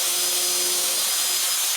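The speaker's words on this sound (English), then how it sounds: "I'm just going to drill a little starter hole for my little..." A power drill bores a small starter hole in wood for a carpenter bee trap, one loud, steady whine held close without breaks and with no talk.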